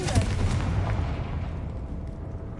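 Confringo fire blast spell from Hogwarts Legacy, a loud close booming burst with crackling, rumbling decay over a couple of seconds.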